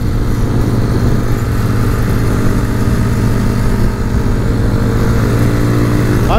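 Motorcycle engine running steadily and loudly up close, a continuous low throbbing drone with no pauses.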